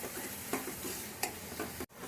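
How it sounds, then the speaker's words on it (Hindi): A sweet mixture with food colour stirred in a kadhai, soft scraping strokes with a faint sizzle, a couple of louder spoon knocks, close and quiet. "और अब इसे अच्छी तरह से मिक्स कर देंगे।"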